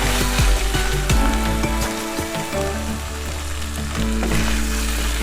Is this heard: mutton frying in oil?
yes